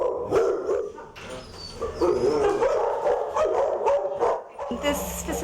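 Many dogs bark and yip together in a noisy, echoing chorus inside a no-kill animal shelter, the din continuous and close while people talk over it.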